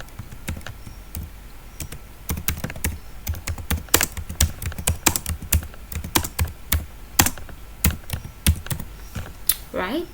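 A Google Form description is typed on a computer keyboard, with crisp, loud keystrokes clattering in a busy, uneven rhythm that runs throughout the stretch.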